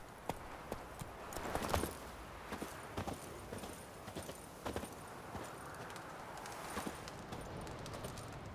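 Roach, the horse in The Witcher 3, trots along with a steady run of hoof clip-clops at moderate distance, quiet overall with occasional louder hoof strikes.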